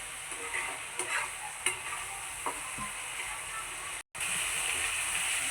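Spice masala stirred and fried in a pan for a Bengali prawn bhuna, with a steady sizzle and occasional soft scrapes of the spoon, close and continuous, with a brief dropout near the end.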